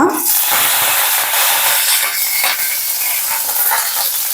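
Dried red chillies and curry leaves hit hot oil for vadacurry and set off a loud, continuous crackling sizzle. The hiss surges right at the start and stays dense and close throughout.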